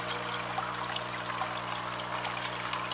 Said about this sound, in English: this way I can top up the water in my tank a little bit too